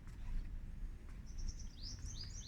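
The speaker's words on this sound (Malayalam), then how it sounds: "ഇവിടെ എല്ലാം കിളികളുടെയൊക്കെ ശബ്ദങ്ങൾ കേട്ടില്ലേ" Small birds chirp and tweet in quick high calls among palm trees over a low rumbling background, moderately distant, in Al Ain Oasis, UAE.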